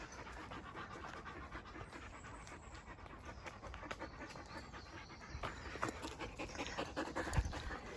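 Two dogs pant close by on either side of a person, a quick continuous breathy rhythm that stays steady and soft outdoors.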